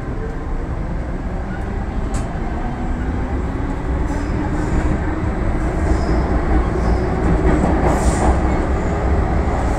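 An MTR Tseung Kwan O line train pulls away from a station, a steady rumble and clatter of wheels building from inside the carriage, with faint higher squeals drifting in and out.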